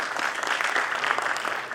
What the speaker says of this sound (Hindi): एक बार चाहूंगी जोरदार तालियां आप